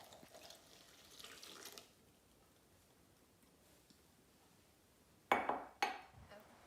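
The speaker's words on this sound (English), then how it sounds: "and then you add your water" Water pours into cake batter of eggs and oil with a soft, splashy rush for under two seconds, followed by quiet and then two sharp utensil clinks against a bowl.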